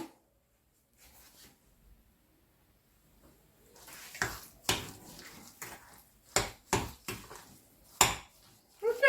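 Five whole eggs being mixed into grated curd cheese in a bowl for a poppy-seed cheesecake, heard as a quiet start followed by a run of sharp utensil clinks and scrapes against the bowl, close and loud.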